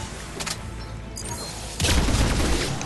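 Gunfire from Mass Effect 3 multiplayer: a scattered volley of shots, then a louder, sustained burst of fire with a heavy low rumble near the end.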